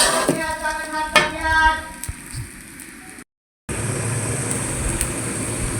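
Rice frying and being stirred in a pot for pulao alongside a beef dish, with soft scraping strokes over a steady sizzle; a voice is heard early, then a brief cut before the frying hiss resumes alone.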